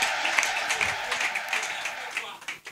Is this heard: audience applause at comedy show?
yes